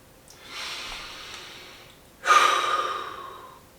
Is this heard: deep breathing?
yes